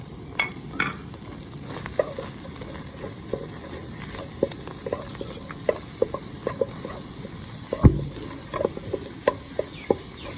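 Green chillies frying with eggs in a pan, a steady soft sizzle under repeated clicks and scrapes of a spoon stirring, close and moderately quiet with no talking.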